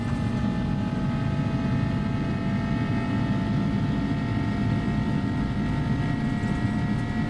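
Simulated Airbus A300 engines at takeoff power in X-Plane 11, a steady loud jet roar with a sustained whine and strong low rumble, unbroken throughout with no voices.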